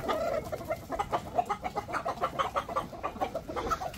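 Chickens cluck in quick, uneven bursts at moderate distance, a busy farmyard chatter of several birds lasting the whole stretch without speech.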